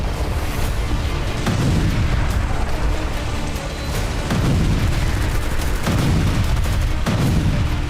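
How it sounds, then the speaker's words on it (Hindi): Rapid rocket and missile strikes by Hezbollah on Israeli military posts rumble continuously, with dense overlapping booms and blasts forming a loud, unbroken barrage. "हिजबुल्लाह इजरायली सैन्य चौकियों पर ताबड़तोड़ रॉकेट और मिसाइल हमले कर रहा है"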